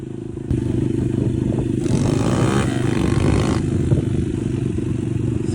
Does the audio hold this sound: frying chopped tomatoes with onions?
no